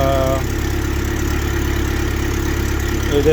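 A 1975 Toyota SR5 pickup's 20R four-cylinder engine idles steadily with a low, even hum, close by and alone, with a faint rise near the end.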